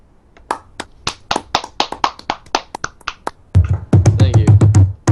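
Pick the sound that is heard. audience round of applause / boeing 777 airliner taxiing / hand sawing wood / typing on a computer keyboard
audience round of applause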